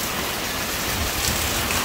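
Heavy rain and strong wind from a typhoon in Rizal during a power outage, a steady loud broadband wash that continues evenly throughout with no voices.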